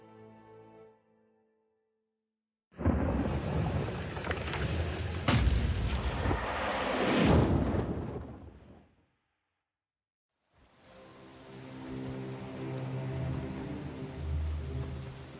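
A thunderstorm in the game Black Book: a loud booming thunder crash with rolling rumble and crackle lasts several seconds, then after a short silence a steady hiss of heavy rain with low rumbling follows.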